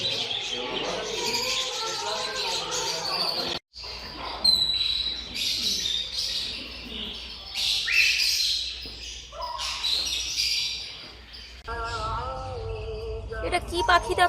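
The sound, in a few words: birds calling at a Dubai pet market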